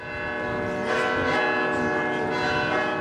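Church bells ring at Saint John Cantius, a steady sustained peal with overlapping resonant tones that swell slightly after the first second and continue without pause.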